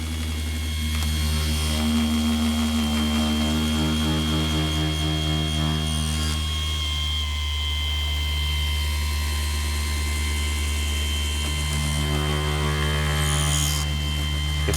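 A Mirka 3-inch cordless polisher, model AROP-B, runs with a steady, close motor hum throughout. Its pitch sags and recovers partway through as the trigger is eased and squeezed again. No one speaks.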